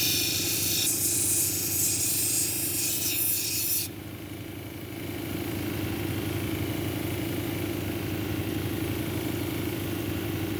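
Quartz with feldspar cabochon ground on a 220-grit wheel, a steady wet rasping rub over a constant motor hum, bright hiss in the first four seconds then a softer continuous grind; no talking.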